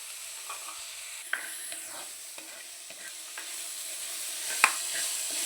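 Tomatoes and curry leaves frying in a pan for a breadfruit and dried shrimp masala, stirred with a utensil; steady sizzle with scattered scraping knocks and one sharper clack near the end, close and alone.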